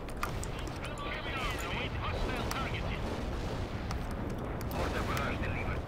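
Artillery strikes in the real-time strategy game World In Conflict, a continuous rumbling barrage of booms and blasts with scattered crackling impacts, loud and dense, while a voice talks over it.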